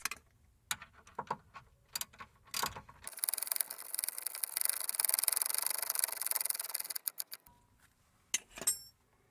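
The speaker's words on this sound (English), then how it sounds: "Tighten the bolt up." A bolt on a front lower wishbone bush of a 2001-2009 Jaguar X-Type being tightened by hand: rapid close ratchet clicks in bursts, then a sustained whirring run of clicking before a few final sharp ticks.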